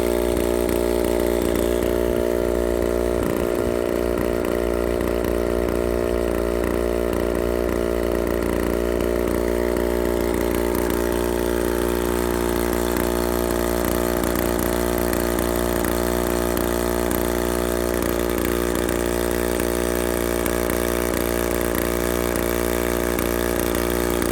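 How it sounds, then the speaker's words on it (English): Portable water pump engine running continuously while watering fruit trees on a Portuguese farm, a loud steady droning idle with a constant throbbing hum close by and no talk. "He's brought his pump, which you can hear, watering my fruit trees."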